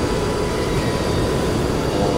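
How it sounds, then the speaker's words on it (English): A train in the video game Resident Evil 6 rumbles past as a steady, loud, dense roar that fills the whole moment without breaks or speech. "Oh, there's a train."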